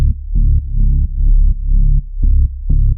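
A sub bass synth preset from Subboom Bass or Serum 2, layered under a bass line in Ableton, plays a loud, deep, pulsing pattern of short repeated notes with brief gaps. It is heard alone, with no talking.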